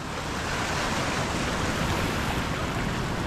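Gulf Coast surf washes in continuously on the beach, a loud, broad roar of breaking waves and rushing water with some wind buffeting the microphone, and no speech.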